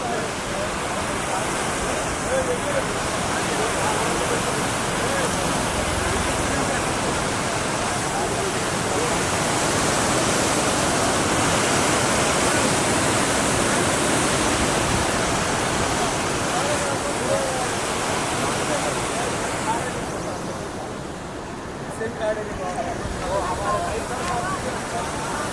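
Floodwater streams near Yerragondapalem, swollen by heavy cyclone rain, roar in a loud, unbroken rush that holds for about twenty-five seconds before easing slightly near the end. A voice speaks over the torrent.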